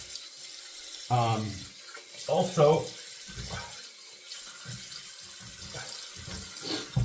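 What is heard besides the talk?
hot water running from a tap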